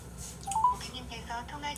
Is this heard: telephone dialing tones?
yes